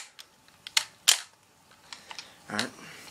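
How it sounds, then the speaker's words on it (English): An M44 bolt-action rifle has its bolt worked and closed on a hand-loaded dummy round: a few sharp metallic clacks and clicks, close and distinct, with faint handling sounds between. "Gonna close the bolt."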